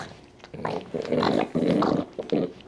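A dog growls close by in several short, rough bursts, each rising and falling in loudness, with no talking over it.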